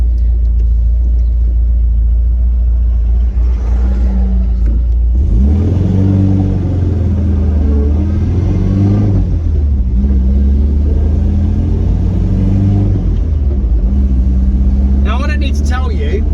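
An MGB sports car engine runs loud and close, a deep rumbling idle broken by several rising and falling revs in succession.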